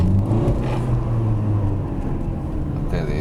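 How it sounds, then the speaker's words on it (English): A 2022 Renault Duster accelerating hard from a standstill, its engine giving a loud, close, steady low drone and rumble that holds for about three seconds. "when you put your foot down, the wheels spin very easily"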